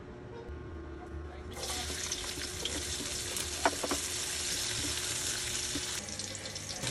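Ingredients being sautéed for pancit bato begin sizzling loudly as they hit a hot pan, a sudden bright hiss that then holds steady and continuous, with a few clinks from utensils.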